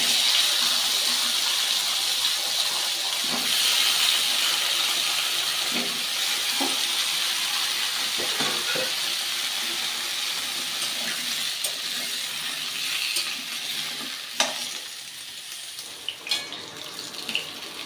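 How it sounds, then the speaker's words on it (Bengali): Potatoes sizzle in oil left over from frying rohu fish, a continuous bright hiss of frying with scattered pops and small clinks, close and steady. "মাছ ভাজা তেলে আমি আলুগুলো দিয়ে দিলাম"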